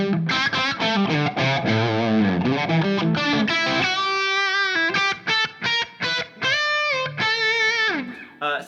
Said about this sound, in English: I'll play with distortion for a second here for you.